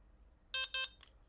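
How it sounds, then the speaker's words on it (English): A Delkim bite alarm receiver gives two short, clear electronic beeps while its memory is cleared, followed by a fainter third chirp in a quiet room. "You wait for 2 beeps"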